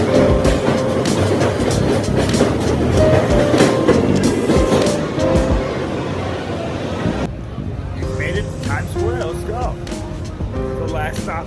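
A New York City subway train rumbles and clatters with a loud, continuous roar. People talk underneath the noise, and the sound turns quieter and thinner partway through.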